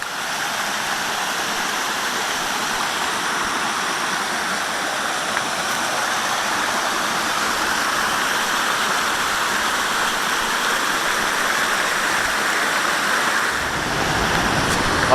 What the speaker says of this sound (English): Alright, we made it to Tiltil Creek.